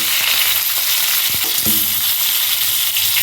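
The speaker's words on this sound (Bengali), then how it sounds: "এবারে আমি এই মশলাগুলোকে দেওয়া হয়ে গেছে দিয়ে একটু ভালো করে ভেজে নেবো" Ginger, garlic cloves, whole raw tomatoes and green chillies fry in a pan for Bengali ayala fish curry, a loud continuous sizzle with a few brief scraping stirs.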